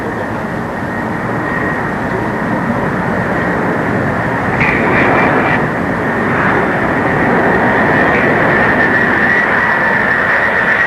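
A Boeing 747 jet airliner on final landing approach gives a steady, loud broadband roar throughout, with a high engine whine swelling in the middle and again near the end.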